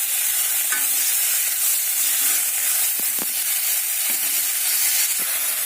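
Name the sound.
frying spinach and chopped tomatoes in a pan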